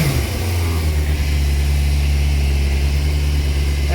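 A 1998 Yamaha YZF600R Thundercat motorcycle, brought back from non-running condition, runs with a loud, steady, close-up engine drone that holds even, with little sign of a sharp rev rise.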